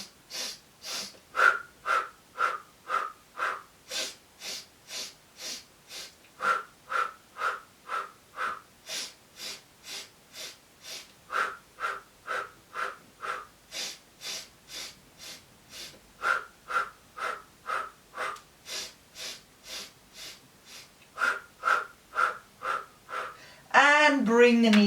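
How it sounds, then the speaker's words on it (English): Rhythmic pulsed breathing during a Pilates abdominal curl, dozens of short sharp breaths in steady groups, close and clear, with a brief voice entering at the very end. "we're going to inhale pulsing up, exhale pulsing down. We'll do 50 little breaths."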